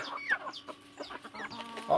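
Spotted hen clucking, several short close clucks and chirpy calls in an irregular rhythm, fairly quiet, with no other sounds.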